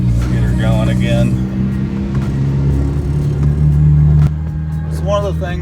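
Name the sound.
manual transmission car engine restarting and revving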